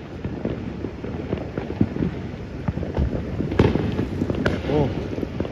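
Crowded New Year's fireworks popping and booming in a dense, continuous barrage, with sharp nearby bangs among a rumble of distant bursts, while people talk throughout.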